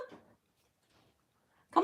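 A pet dog whines and whimpers in short bursts, a faint cry near the start, a softer one in the middle and a louder close whimper at the end, with quiet gaps between.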